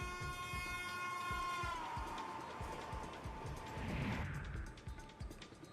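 A Vande Bharat express train rolls past with rhythmic clattering wheels and a long sustained horn blast early on, the rumble swelling and fading at moderate distance.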